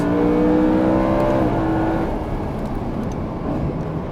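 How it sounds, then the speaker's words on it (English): A BMW E92 M3 engine on a race track holds a high, strained whine at its rev limiter, then the pitch drops as it eases off, loud and close. "Hitting the rev limiter there, briefly."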